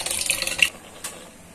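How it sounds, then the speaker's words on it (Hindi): Water splashes briefly into a pot of cooking arhar dal being made sour and tangy, a close, short pour that stops after under a second, followed by a faint drip. "तो जरूरत के हिसाब से हम इसमें पानी ऐड करेंगे।"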